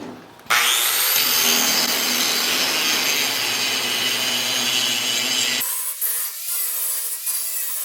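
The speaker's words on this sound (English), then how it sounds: "I'm going to change it out and go about from here over with the grinding disc and show you what it will do." A grinding disc working metal during weld preparation gives a loud continuous abrasive whine and rasp for about five seconds, then the tool spins down with lighter scraping.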